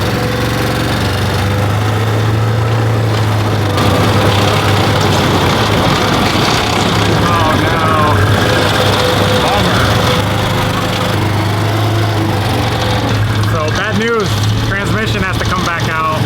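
A cheap side-by-side utility vehicle's engine runs steadily and loudly nearby, a constant droning hum throughout, with a voice talking over it near the end.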